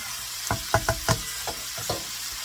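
Crumbled filling browning in a frying pan for cabbage egg rolls, with a steady sizzle under a series of sharp scraping stirs, about six spaced strokes over a couple of seconds, close and fairly quiet.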